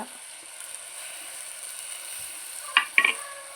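Garlic, ginger and curry leaves sizzle in a pan for a small-onion fish curry, a faint, even hiss that runs throughout, broken near the end by a couple of sharp clicks of the spoon.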